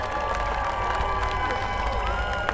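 A large crowd at the Tour de Banyuwangi Ijen 2025 cycling race cheers and applauds at once, with continuous clapping mixed with shouts and whoops filling the space.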